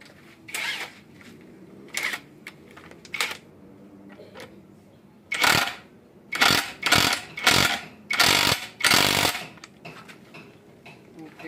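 An impact wrench works on an Isuzu 4BC2 steering pump in a series of short, loud, rattling bursts, most of them packed into a rapid run near the end, with a voice talking early on.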